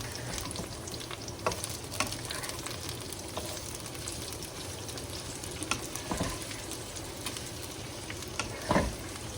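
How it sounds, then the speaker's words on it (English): French beans stir-frying in a pan, a continuous close sizzle broken by occasional clinks and scrapes of stirring. "Now I put in my beans. Put in your beans and just stir fry them for a little while."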